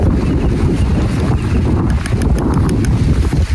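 Strong wind gusting outdoors on a hike in remote England, roaring steadily into the microphone for the whole stretch at a loud, constant level with no voices.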